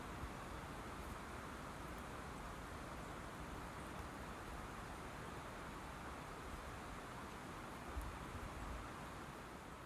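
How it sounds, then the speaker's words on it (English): Leaves rustle in a light winter breeze outdoors, a steady soft hiss of broadband noise with faint distant traffic-like rumble underneath, continuous and fairly quiet. "all I can hear is the leaves being rustled by the light winter breeze"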